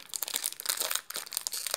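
Close, crisp crinkling and tearing of a plastic Rollinz Star Wars toy packet being ripped open, a dense burst of rustling with no talk.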